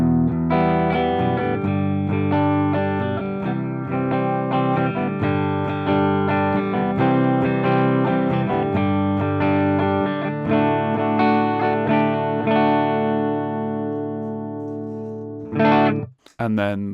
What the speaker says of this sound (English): If we turn the gain up to about 3 o'clock.